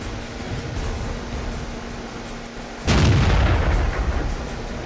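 A single loud tank cannon shot booms in the World of Tanks video game, cutting in sharply about three seconds in over a steady engine and ambient drone, then rolling on as a broad, sustained rumble.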